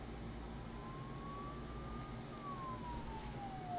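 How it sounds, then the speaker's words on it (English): Emergency sirens from the video game Persona 4 Golden rise and fall slowly as a single wailing tone, heard at steady volume over a constant low background hum, with no talking. "Don't those sirens sound really close?"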